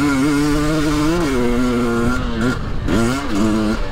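A Husqvarna TE300 dirt bike engine revs up and down while riding slippery terrain, loud and close, with rising and falling pitch as the throttle is rolled on and eased off through a corner.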